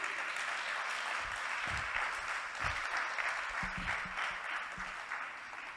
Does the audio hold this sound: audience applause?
yes